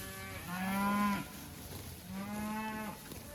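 Cattle low twice at a grassy pasture, two long, loud, close moos separated by a brief pause, with no talking over them.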